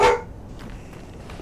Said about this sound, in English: sorry if you hear the dog, he gets antsy at nights lately